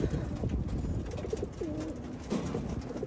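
Racing pigeons coo softly and repeatedly among a group at a toss release, amid steady outdoor background noise.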